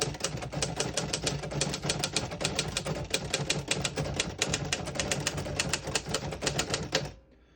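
Keys strike rapidly on a 1955 Royal HHE vintage desktop typewriter, a dense run of sharp mechanical clacks in quick, even rhythm for about seven seconds before it stops abruptly.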